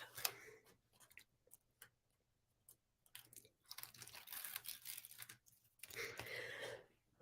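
Sparse quiet ticks, then a run of soft crackling and tearing as backing paper is peeled away, ending with a brief rustle.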